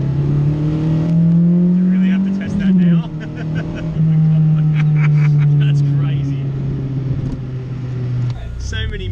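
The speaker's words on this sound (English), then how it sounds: "Let me just put it into fifth gear, everyone, so we can just cruise." A Mini fitted with a Honda VTEC engine cruises in fifth gear, its loud, steady engine drone dipping briefly during the gear change, with people talking inside the car.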